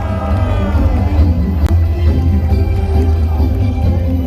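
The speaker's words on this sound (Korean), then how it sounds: "여러분 힘찬 기대찬 함성으로 윤상현 의원을 청해 주시기 바랍니다" A large crowd of party members roars and cheers at a rally for lawmaker Yoon Sang-hyun launching his party leadership bid, a loud continuous wash of voices close and enveloping.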